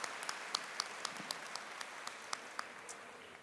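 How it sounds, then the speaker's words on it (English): Applause from an audience at a school district convocation, a faint, distant wash of clapping with scattered sharper claps standing out, steady for the whole stretch and without voices. "Can we have another round of applause for our B campuses?"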